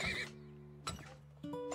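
Horse whinny from the video game Turmoil, a short bright neigh followed by two more brief calls with steady harmonic tones, clear and fairly close with no talking.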